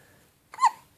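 A single short baby hiccup, close and clear, rising abruptly out of near silence and fading within a fraction of a second.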